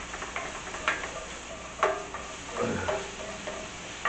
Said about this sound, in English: it'll start to melt the fat out of the bacon